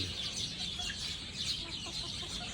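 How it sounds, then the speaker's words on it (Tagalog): Chickens cluck in a backyard, a steady chorus of soft fowl calls, fairly faint and continuous with bird chirps mixed in. "Ayun yung mga manok."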